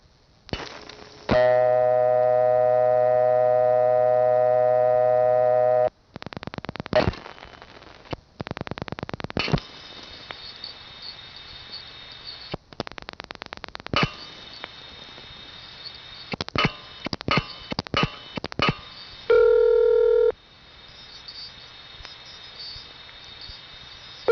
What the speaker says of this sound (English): Here's an Allentown ringing number, this time over N3 type carrier.